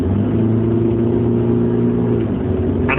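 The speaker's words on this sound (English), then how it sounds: "this whining noise, which I believe is the turbocharger." A 2020 Chevrolet Colorado Z71 crew cab with the 2.8L Duramax diesel accelerates, its steady droning engine tones carrying a whine that climbs sharply in pitch near the end, close and loud throughout.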